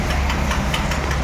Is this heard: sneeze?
no